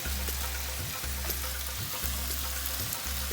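Beef fries in very hot oil over high heat, a loud, dense, continuous sizzle heard close up, with a low rhythmic hum pulsing about once a second underneath and no voices.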